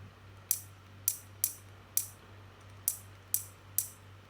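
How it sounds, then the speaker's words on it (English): Seven crisp, bright hi-hat hits, evenly but not strictly spaced, each with a short decaying tail over a low steady hum. "I think that sounds good as some hi-hats"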